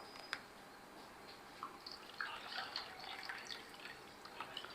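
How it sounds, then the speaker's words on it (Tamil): Water added to a pot of raw mango rasam, quiet trickling and soft splashing with a few small drips and sloshes, heard faintly and alone. "இப்போ இதில் தேவையான தண்ணியை நம்ம ஆட் பண்ணிடலாம்."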